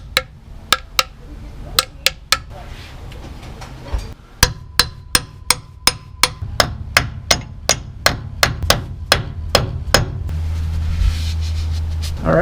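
A hammer drives a new pinion seal into the Dana 44 axle of a 1973 International Scout II. About twenty sharp, close metallic blows land, spaced at first and then in a quicker, steady run.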